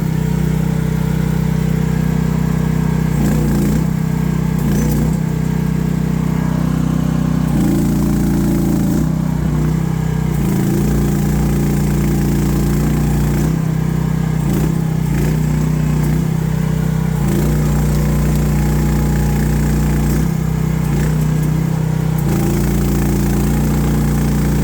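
A mini excavator's engine runs at raised throttle, a loud, steady, close droning hum with slight shifts in load as the machine works and swings around, and no speech over it.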